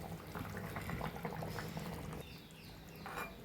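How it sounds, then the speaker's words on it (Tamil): A pot of green field bean and eggplant curry boils on the stove, giving a close, steady bubbling and gurgling for a few seconds. "நல்லா கொதி வருது."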